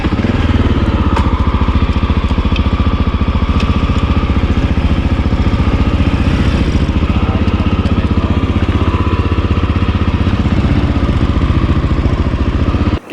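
Motorcycle engine droning steadily and loud throughout while riding along a road in Colombia behind a motorcycle taxi, with a constant low rumble and wind noise and no talk.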